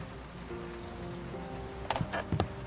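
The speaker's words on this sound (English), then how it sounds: "The rain beats against the office window." Steady rain patters against an office window at night, a continuous soft wash of drops with a few brief louder knocks near the end.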